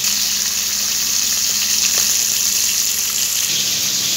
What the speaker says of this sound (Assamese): নিমখ হালধি খানি পেলাই মই এখিনি ফ্ৰাই কৰি আছো